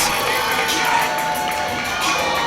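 Wrestling fans in a CCW arena cheer and applaud for Meadow after a match, a loud, dense crowd roar with shouts and whoops running steadily throughout.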